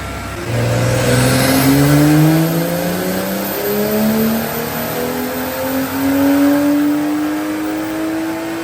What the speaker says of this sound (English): we got the car back on the dyno, and this is going to be stage 1, full bolt-on, no meth